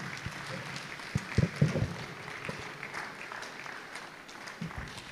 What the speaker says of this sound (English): Let's continue to clap for him.